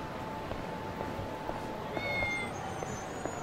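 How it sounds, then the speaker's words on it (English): A cat in the video game Lost Judgment lets out a short, faint meow over a constant low background hum, with a few soft ticking sounds around it. "There's a cat?"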